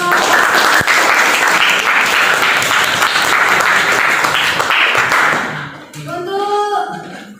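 Applause from a group in a classroom during a teachers' coaching session, loud dense clapping for about five seconds that stops abruptly, followed by a voice speaking.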